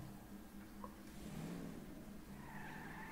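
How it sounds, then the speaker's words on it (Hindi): A car pulling away in GTA 5, with a short tire skid and squeal over a low engine drone, fairly quiet and steady, no speech. "ये रही हमारी गाड़ी। अब इसको बैठ के चलते हैं"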